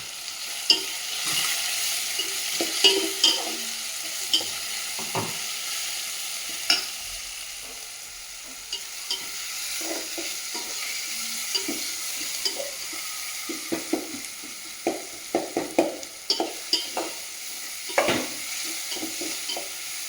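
Onions sauté in oil in a pan for a village-style river carp curry, a continuous close sizzle punctuated throughout by regular scraping and clinking strokes of stirring.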